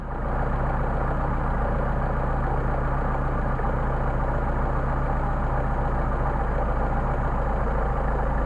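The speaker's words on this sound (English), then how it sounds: "Idle's starting to degrade, bring it back out." A Mercedes 190SL engine idles on Solex carburetors, a steady close rumble holding an even, continuous drone throughout with no talk over it.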